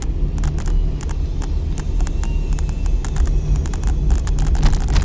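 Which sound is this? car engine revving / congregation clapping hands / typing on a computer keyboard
car engine revving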